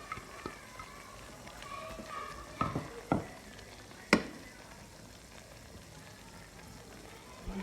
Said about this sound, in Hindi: अब हम इसके अंदर 3 अदद कटे हुए प्याज डालेंगे।